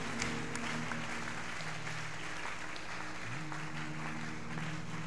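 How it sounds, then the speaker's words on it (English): A congregation at a revival tent meeting claps hands, a faint, steady patter of applause beneath sustained musical tones in the background. "In the name of Jesus, clap your hands one more time."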